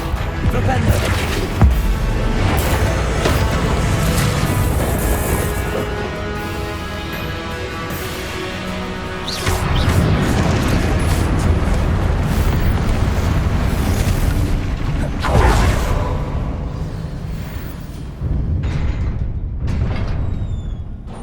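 Spell explosions in the video game Hogwarts Legacy: dense, continuous magical bursts, booms and crackling impacts fill the whole stretch loudly, with sharper blasts standing out now and then amid the chaotic combat mix.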